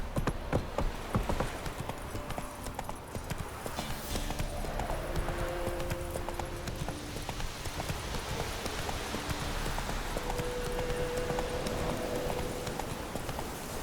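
Roach, the horse in The Witcher 3, galloping with a quick, continuous drumming of hooves, close and loud, under a soft hum that rises and falls, with a possible faint whinny.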